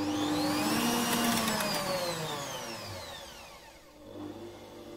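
A Bosch MUM5 kitchen food processor motor spins up at higher speed, a loud whirring whine that sweeps in pitch and then winds down before a brief restart.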